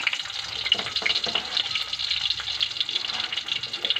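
Garlic drops into hot oil in a pan and sizzles steadily, a bright continuous crackling hiss lasting throughout at close range, with no talk over it.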